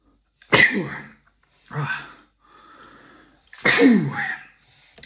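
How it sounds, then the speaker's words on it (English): Two sharp sneezes a few seconds apart, close up, with a short breath and wheezy exhale between them. "I sneezed during a podcast"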